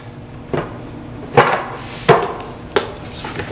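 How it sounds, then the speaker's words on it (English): A rubber mallet pounds a wooden center support down onto a bed frame, four distinct solid knocks spaced unevenly about a second apart, close and fairly loud over a quiet room. "pound down with the rubber mallet until flush"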